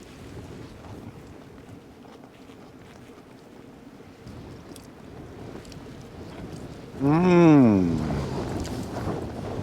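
Strong wind buffets a wild camp under a tarp for a steady, rushing stretch. A person briefly murmurs near the end.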